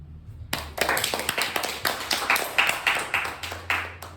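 A small group of children in a piano class claps for a classmate's bow. The claps are quick and uneven, a dense patter of close, moderately loud hand claps that runs steadily for several seconds after a short quiet start.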